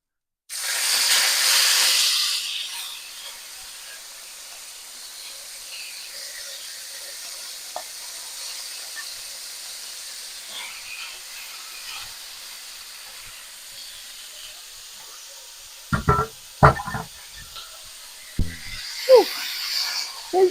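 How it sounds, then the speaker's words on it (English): Stir-fried beef with broccoli and ginger sizzles in a hot pan, a steady bright hiss after a loud initial burst, with a few clattering stirs and knocks near the end. "sizzling."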